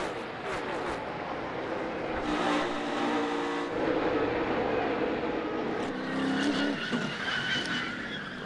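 NASCAR race cars pack together at Daytona in a late-race multi-car wreck that collects the leaders: a loud, continuous engine roar mixed with squealing, skidding tires, surging louder near the middle and end.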